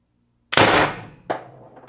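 Umarex TR50 air rifle firing a 3.5 gram shaped pellet into a target trap, one sharp loud close report after silence, followed by a fainter thud and a decaying ring.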